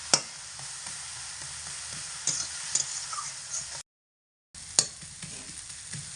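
Fourteen kinds of leafy greens cook in a pan with salt and turmeric, sizzling steadily while a utensil stirs and scrapes through them in scattered strokes, with one short silent gap partway through.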